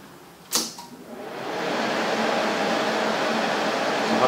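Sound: Rossi TC205 AC TIG welder being switched on

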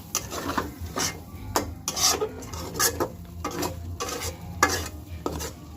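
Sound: cooking catla fish head with Malabar spinach seeds

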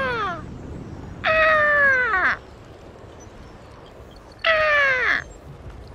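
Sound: crows cawing, birds in the video game Call of Duty: Ghosts

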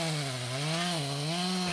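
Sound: chainsaw cutting black locust wood

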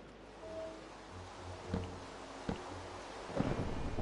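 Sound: thunder in Minecraft video game

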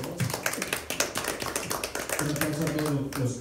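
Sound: audience applause at exhibition opening

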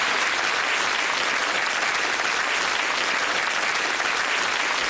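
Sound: studio audience applause on Bullseye game show

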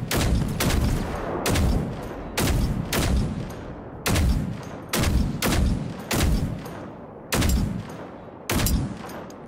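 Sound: gunfire from a .50 caliber gun at a tank, video game Generation Zero

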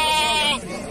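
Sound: lambs bleating at a sheep market

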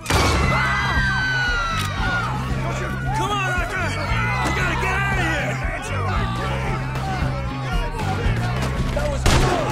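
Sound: gunfire in shootout, Red Dead Redemption 2 video game

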